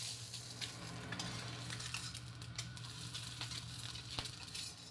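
Eggs pan-fry on a stove, giving a steady, dense sizzle over a constant low hum, with occasional small pops and clicks and no talking.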